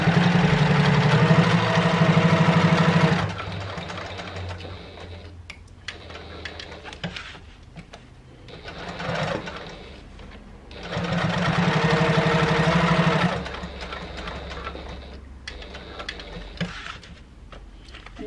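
A Janome HD9 sewing machine stitches a mini wallet, running in two loud steady bursts separated by quieter pauses with light handling noises.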